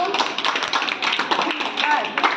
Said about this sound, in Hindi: एक बार उसके लिए अपनी अपनी सब तालियां बजा दो।